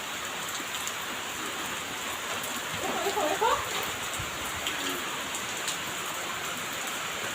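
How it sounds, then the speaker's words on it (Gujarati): Heavy rain in a village, falling steadily on the ground and nearby surfaces as a continuous close patter, with a slight swell partway through and no clear speech. "વરસાદ આપડે ચાલુ થઈ ગયો ફૂલ."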